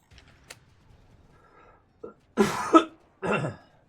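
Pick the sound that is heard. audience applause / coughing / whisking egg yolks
coughing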